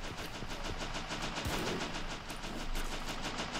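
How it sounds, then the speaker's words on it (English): Machine gun fire in the World War I strategy game Battle of Empires 1914-1918, set at Gallipoli, rattling in rapid continuous bursts with steady dense rhythm over battle noise, moderately distant. "I think that machine gun can hold them off for quite a while"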